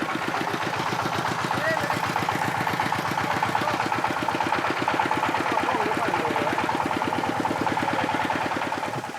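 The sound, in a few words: improvised tuk-tuk truck engine sputtering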